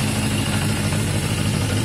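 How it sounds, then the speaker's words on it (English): A Yamaha XJ550 motorcycle with an intermittent fault idles at a slightly lowered idle speed, giving a steady, close, low rumbling drone with no pauses or talking. "So I've lowered the idle a touch"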